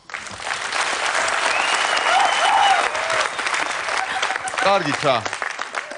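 A studio audience on a Georgian TV show applauds in a sustained, dense wave of clapping, with someone speaking briefly over it near the end.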